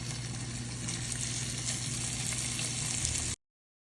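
Food frying in hot oil on a stove, with garlic pieces about to go in, gives a steady, close sizzle that holds evenly until it cuts off abruptly.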